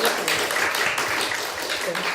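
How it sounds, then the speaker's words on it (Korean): A youth group audience claps together at a church gathering, dense and steady for a couple of seconds, with voices mixed in over the applause. "박수 한번 칠까요?"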